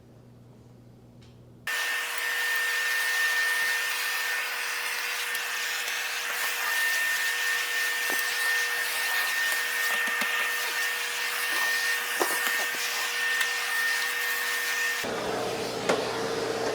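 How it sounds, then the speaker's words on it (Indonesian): A vacuum cleaner switches on abruptly and runs with a loud, steady whine while cleaning an office room floor, with occasional bumps and scrapes, then cuts off near the end. "sekarang ruangan office yang di dalam saya akan vakum"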